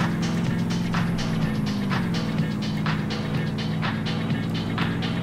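A Psycho buggy engine in DayZ drones and accelerates continuously, a rough low motor note with rhythmic gear-like pulses layered over it, loud and close throughout.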